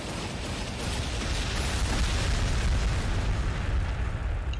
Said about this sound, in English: let's have the artillery hit him